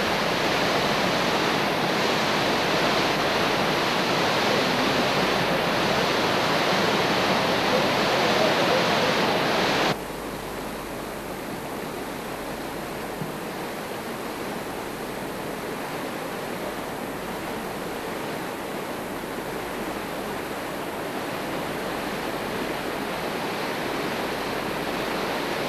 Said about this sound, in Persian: وجود آبشارهای زیبا